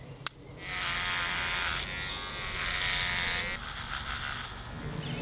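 Close, steady buzzing drone of electric hair clippers fitted with a six mil attachment, cutting hair inside a camper van, the pitch wavering as the clippers move through the hair.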